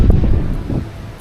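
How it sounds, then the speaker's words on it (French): Strong wind at Mont Saint-Michel buffets the microphone in a close, low, gusting rumble that is loudest at first and then eases slightly. "Ah, mais à l'abri du vent, là, c'est du vent."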